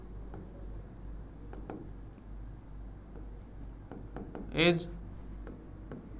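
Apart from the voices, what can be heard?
writing a sentence by hand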